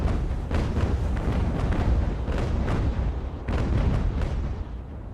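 Sailing-ship cannons fire in the naval battle game Ultimate Admiral: Age of Sail, a dense run of overlapping booms and blasts rolling on without a break, fairly distant and muffled.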